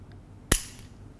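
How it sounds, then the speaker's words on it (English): A single sharp snip of wire cutters closing, close and crisp, against quiet room tone. "This is a 24 gauge white wire, and I'm going to trim them into various lengths."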